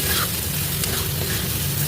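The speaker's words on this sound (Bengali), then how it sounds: "এবার মশলাটাকে ভালো করে একটু কষিয়ে নেবো গোবিন্দভোগ চালের সঙ্গে।" Spices sautéed with Gobindobhog rice and raisins in a pan give a close, continuous hiss and sizzle with faint stirring scrapes over a steady cooking rumble, and no talking.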